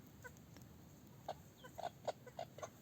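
Fizan chickens, mother hens with chicks, cluck softly in short, scattered bursts against a faint, quiet background.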